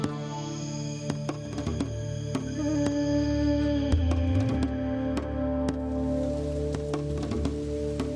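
Heavy rain falls steadily in Cherrapunji, a dense continuous wash with scattered sharp drips and taps over it, close and fairly loud with no voices.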